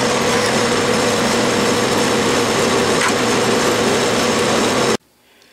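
A loud, steady machine drone of drilling a 1/4 inch hole about 1.5 inches deep in metal runs without a break for about five seconds, then cuts off abruptly, leaving quiet room noise.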